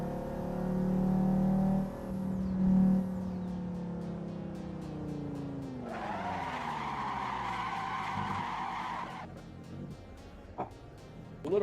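In the Assetto Corsa Evo racing game a car drifts and skids, engine revving and sweeping up and down in pitch while tires squeal in sustained bursts, moderately loud, ending with quieter engine sounds and a spin.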